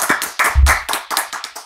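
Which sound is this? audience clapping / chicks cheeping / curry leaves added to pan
audience clapping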